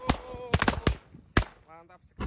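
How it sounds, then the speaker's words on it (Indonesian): A pack of triangle firecrackers going off close by in a rapid, irregular string of loud cracks and pops with brief gaps. A short tonal squeal comes near the end, followed by a final bang. "Lanjut kita nyalakan mercon segitiga 1 pak."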